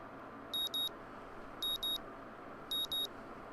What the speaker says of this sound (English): My alarm's beeping shatters the early morning quiet